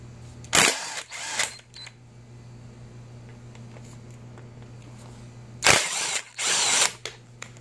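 Two bursts of power-tool whirring, near 0.6 and 5.7 seconds, from a ratchet or impact tool backing out 13 mm bolts on the engine of a 2013-2015 Chevrolet Malibu LT 2.5L, with a steady low hum running between them.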